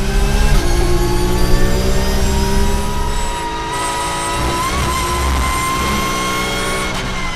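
GT race cars in a Roscar GT Challenge battle, braking into a chicane at the Paul Ricard circuit, with loud, steady, overlapping engine drones and whining tones holding for several seconds, no voices.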